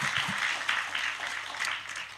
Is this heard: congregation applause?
yes